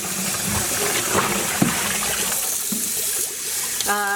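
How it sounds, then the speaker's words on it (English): Running water rinsing hand-dyed yarn in a dyeing setup, a steady close gushing stream with faint splashes, fairly loud and unbroken, ending with a brief tonal sound. "And so I am going to rinse this a few times."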